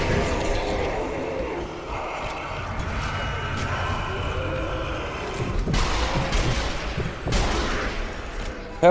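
Shooting in the video game Zombie Army Trilogy sounds as muffled booms and rumbling over a steady background, with a couple of sharper shots standing out toward the end.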